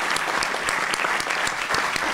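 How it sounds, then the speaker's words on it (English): Audience applause at a science fiction convention business meeting, dense, steady clapping from a large crowd filling the room throughout, loud and even with no talking over it. "I'd like to start a round of applause as thank you for all the help and support you gave me"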